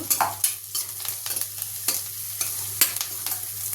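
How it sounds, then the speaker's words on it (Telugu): Boiled cabbage stirred and fried on high flame in a pan with salt and turmeric, steady sizzling with repeated scraping strokes of a spoon, close and clear, no voices. "ఉడకబెట్టుకున్న క్యాబేజీ హై ఫ్లేమ్లో వేపుకుంటే దీనిలో ఉన్న నీళ్ళన్నీ వెళ్ళిపోతాయి"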